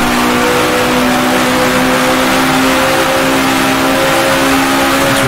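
1966 Formula 1 race car in Grand Prix Legends racing at the Belgian Grand Prix, its engine holding a loud, steady high-pitched wail throughout with no talk.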